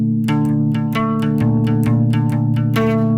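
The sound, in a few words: bass guitar playing an arpeggio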